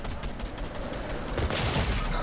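Rapid bursts of video game gunfire from an online shooter match, a dense rattling volley that swells louder toward the end, with no talk over it.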